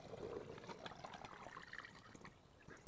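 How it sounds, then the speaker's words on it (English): Homemade apple cider vinegar, fermented from apple cores, is strained and poured into a jar, making a faint, steady trickle of liquid that runs continuously with no voices. "I'm going to strain the vinegar and pour it into another jar."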